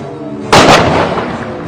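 A Diwali firecracker bomb goes off once with a single loud, sharp blast that fades into a short rumbling tail over a background of steady hum.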